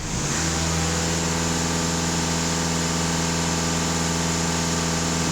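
A Volkswagen Passat B8 engine, running with a temperature-management fault, holds raised revs in a steady, loud, unbroken drone with a stable low hum and no talk over it.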